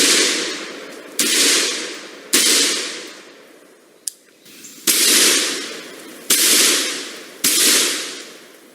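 Rifle shots of 5.56/.223 55-grain ammunition fired into quarter-inch hot rolled steel, about seven sharp, loud cracks at irregular intervals, each with a long, decaying echo, plus one brief smaller snap in the middle.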